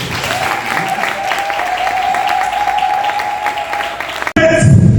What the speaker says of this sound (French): Nous allons demander à l'assistance d'acclamer encore plus fort